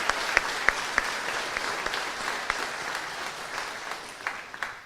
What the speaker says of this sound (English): Let's give Dr. Scott one more 4-H round of applause.